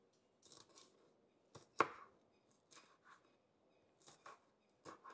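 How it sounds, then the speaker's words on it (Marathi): Green chilies being chopped with a knife for a dill and moong dal bhaji, giving a handful of quiet, irregular taps of the blade on the board with short pauses between them. "आपण आता हिरवी मिरची कट करून घेऊ"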